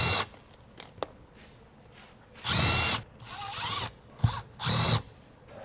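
A power drill or driver backs out the screws on an RV backup camera cover, heard as three loud whirring bursts of a couple of seconds each, with small clicks and taps between them.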